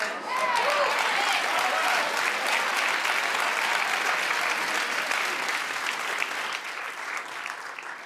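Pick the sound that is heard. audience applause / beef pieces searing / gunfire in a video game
audience applause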